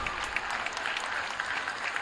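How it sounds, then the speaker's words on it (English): Dense, continuous applause from a crowd, steady and moderately loud throughout. "Give a big round of applause to all the volunteers that have helped tonight"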